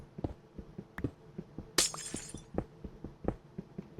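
Glass blocks breaking in beta Minecraft: a sharp, bright shattering crash partway through, set among steady rhythmic footstep-like taps and block clicks, no talking.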